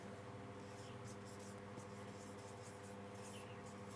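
Marker or chalk scratching on a board during a physics lecture on viscosity, heard as faint, irregular strokes of writing over a steady low hum in a quiet room.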